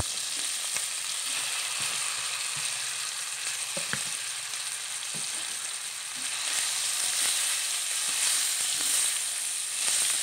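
Pieces of goat meat fry in a pan for tongseng, a dense, even sizzle close by with occasional soft stirring taps.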